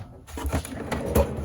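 A storage drawer in a teardrop camper sliding open, a brief rumbling slide with a couple of soft knocks, close and moderately loud, without speech.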